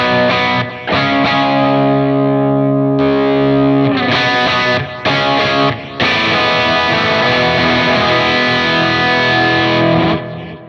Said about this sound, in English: show you the clean to the gained up amp